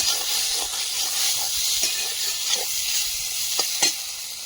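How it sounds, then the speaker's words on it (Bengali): Vegetable curry frying in a pan over a wood fire gives a loud, steady hiss and sizzle throughout, with a few soft stirring scrapes and taps on top and no voices. "সবজিটা ভালো করে কষিয়ে নিয়েছি, জল দিয়ে দেবো।"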